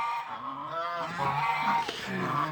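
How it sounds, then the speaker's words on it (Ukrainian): Domestic geese, two young ganders and an old gander with a goose, honk repeatedly up close in the snow, their harsh calls overlapping in a loud, busy chorus. "Два молодих і один старий гусак ще Старегуска."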